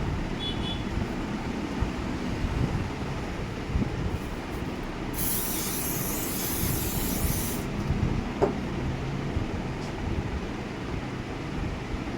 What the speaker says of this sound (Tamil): ஸ்ப்ரே அடிக்கிறேன்.